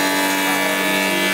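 A saw in a woodworking workshop cuts wood with a loud, steady whining drone, continuous and close throughout the brief moment.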